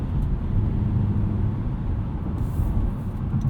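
A 2016 Honda Accord V6 coupe with a six-speed manual pulls hard in third gear, a steady low engine drone and road rumble heard from inside the cabin without talk.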